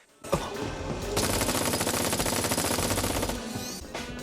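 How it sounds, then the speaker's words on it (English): A machine gun sentry in the Final Fantasy VII Remake video game fires one loud, sustained burst of rapid gunfire lasting about three seconds, with a sharp shot at the start and nobody speaking. "Remember that machine gun sentry that almost kills the entire story of Final Fantasy VII?"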